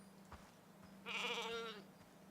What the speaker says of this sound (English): Okay, so this is our bighorn sheep.